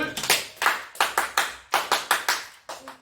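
Primary school pupils in a PE class clap for a classmate with a short burst of sharp, close claps, about a dozen in quick uneven groups, each crisp and distinct rather than a blended roar.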